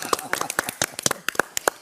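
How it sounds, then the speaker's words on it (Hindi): Scattered hand claps from a studio audience during a comedy roast on a Bigg Boss OTT 2 set, irregular and fairly close, with voices mixed in. "तालियां"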